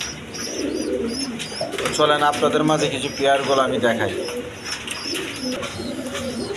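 Pigeons cooing in a loft with young birds, soft repeated coos near the microphone while someone talks over them.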